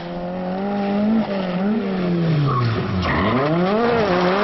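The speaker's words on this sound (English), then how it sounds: "That was a wonderful drift." A diecast rallycross toy car drifts through a race with its tires skidding: a sustained, wavering squeal rises and falls in pitch over a steady whine, loud and close, with no voices.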